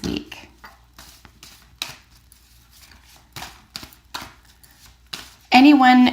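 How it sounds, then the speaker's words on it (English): A deck of tarot cards being shuffled gives soft, irregular papery riffles and flutters at close range, in short separated bursts with quiet gaps between them, ending in a sudden louder, brighter burst of sound. "Anyone who enjoys this shuffling like I do, you will be satisfied to wait for jumper cards with me."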